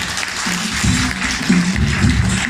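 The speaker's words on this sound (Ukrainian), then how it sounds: "Оплески вам!" Applause from an audience of parents at a children's and youth creativity centre event in the Kyiv region, a steady patter of clapping with thumping swells.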